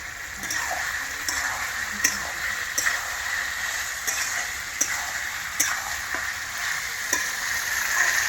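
Fatty goat meat sizzles and fries as it is stir-fried in a pan over a wood fire for a liver and stomach curry, a continuous close crackle with sharp periodic clicks of the stirring utensil striking the pan.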